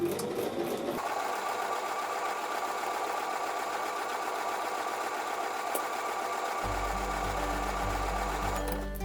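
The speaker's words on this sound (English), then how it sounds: "I'm going to line the edge of my 1/4 inch foot along that line and sew 1/4 inch away from the line" A sewing machine stitching quilt block pieces with a quarter-inch foot runs in one steady, close, continuous whir for several seconds, its motor tone shifting slightly near the end.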